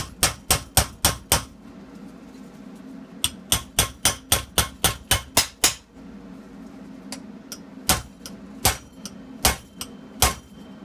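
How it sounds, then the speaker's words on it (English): Sharp metallic body hammer strikes on metal tubing held in a vise, reshaping round to oval, come in quick bursts of rapid, evenly spaced blows, pausing between runs, loud and close with ringing clangs. "You wanna smash it to where you do it like this, and I have a body hammer"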